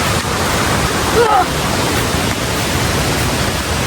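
A loud, continuous rush of the Rengat River flowing fills the scene, steady and close, with a brief murmur of voices under it.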